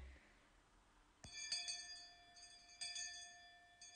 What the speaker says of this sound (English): Just then we heard a bell far away,